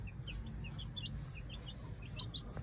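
Aseel hen softly clucking near chicks, with repeated high chick peeps scattered over a low background hum, faint and close, no talk.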